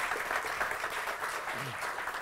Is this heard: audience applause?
yes